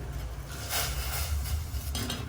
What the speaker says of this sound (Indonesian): Masukkan tauge.